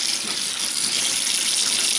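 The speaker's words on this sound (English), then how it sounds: "So I'm just going to leave it running under cold water." A kitchen tap runs cold water steadily over frozen pork and shrimp dumplings, giving a loud, continuous hissing splash that stays even throughout with no talking.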